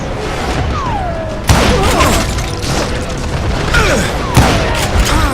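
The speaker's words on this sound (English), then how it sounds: "But now that the shooting had started" Gunfire in the Western shooter Call of Juarez: Gunslinger: a sharp, loud shot or blast lands mid-clip, with more shots booming through a dense, busy din of gameplay action.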